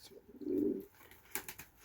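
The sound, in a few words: pigeons cooing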